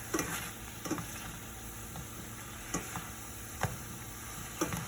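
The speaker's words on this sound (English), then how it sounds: "2 coarsely chopped cloves of garlic. We're going to just let that cook down nice and gentle." Coarsely chopped garlic cloves sizzle gently in a pan with a faint, steady frying hiss, broken by a few soft clicks of stirring at close range.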